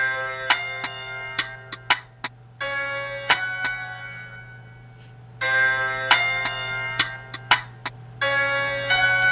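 Two layered drum machine rim shot patterns in a beat, short bright clicks falling in a bouncy, swung rhythm, played alone over a low steady hum with brief gaps between phrases.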